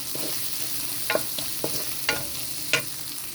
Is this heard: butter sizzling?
yes